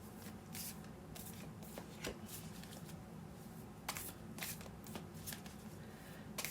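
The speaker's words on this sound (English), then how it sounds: "Maybe I can shuffle them this way." Tarot cards are shuffled repeatedly by hand, a soft rapid riffling and flapping in quick bursts, close and fairly quiet, with no talking.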